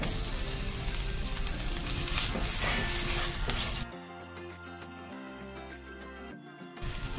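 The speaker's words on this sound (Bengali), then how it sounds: "একদম হালকা হালকা ভাজা হলেই আমি অ্যাড করব চিকেন।" Ginger and garlic paste frying in a pan give a steady, loud sizzle for the first four seconds, then the sound drops to a quieter crackle with a low hum for the rest of the clip.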